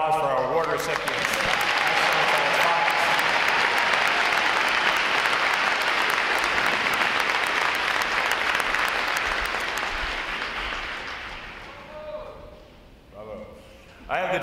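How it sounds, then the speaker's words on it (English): An audience at a U.S. Navy recruit training graduation applauds award recipients with loud, dense clapping that holds steady, then tapers off near the end as a voice begins speaking. "how about another round of applause for our award recipients?"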